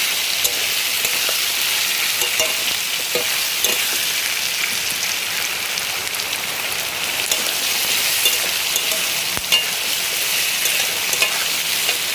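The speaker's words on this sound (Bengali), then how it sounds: "এই যে পেঁয়াজ কাটাগুলো দিয়ে দিলাম, সব কিছু দিয়ে একই সাথে আমি সুন্দর করে কষিয়ে নেব।" Chopped onions and spices sautéing in a pan, a loud, continuous hissing sizzle heard close, with occasional faint stirring taps and no talking.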